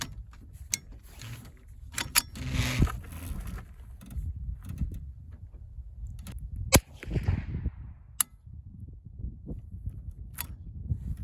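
A Savage Arms A22 .22LR rifle fires Browning 37 grain rimfire rounds outdoors, sharp isolated cracks spaced a second or two apart, mixed with quieter handling and mechanical clicks.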